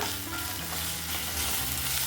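Constant sizzling of ginger and garlic sautéing in a hot pan, a dense crackling hiss with no talking.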